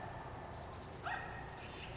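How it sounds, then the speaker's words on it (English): A neighbouring dog barks from next door, a quick series of faint, distant yips heard indoors over a steady low background hum. "That's the dog next door you might be hearing."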